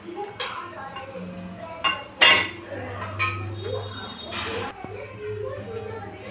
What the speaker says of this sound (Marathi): तर आता खोबरं तोडून घेऊ छान.